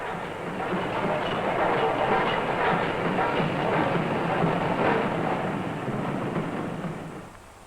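A steam-era train pulling into a station after a run from Scotland, a broad steady rumble that swells and then fades toward the end, with no voices.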